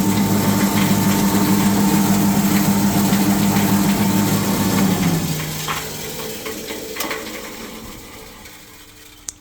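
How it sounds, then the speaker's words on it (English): A large main electric motor on a Vaner copper cable granulator runs with a loud steady hum and whine, then winds down after about five seconds, its tone fading into a quieter tail with faint knocks. "So as you see, that's a substantial electric motor."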